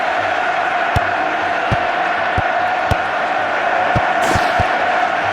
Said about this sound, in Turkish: Taraftarlar oyunculara tezahüratlarıyla destek oluyor.